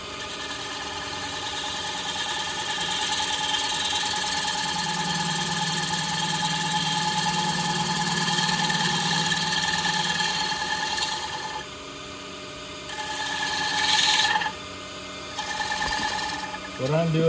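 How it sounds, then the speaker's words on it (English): Wood lathe gouge cutting a wooden platter, a steady mid-pitched hum from the spinning lathe with a rougher scraping tone swelling in the middle, then a few brief breaks near the end, with someone talking throughout. "I'm taking the point of the gouge, I'm pointing it into the wood till I get a cut"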